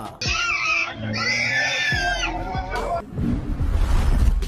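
A pig squeals loudly in a series of shrill, drawn-out cries as a donkey grips and pulls its ear, followed by rough scuffling and thumping noise near the end.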